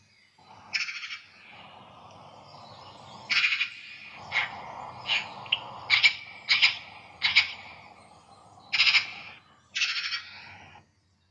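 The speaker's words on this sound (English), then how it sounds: "more birdsong, a magpie this time, with its machine gun chatter." A magpie gives its harsh, machine-gun chatter on a countryside walk near Teign, in about nine rattling bursts of varying length that sound fairly close and stand alone with no talk.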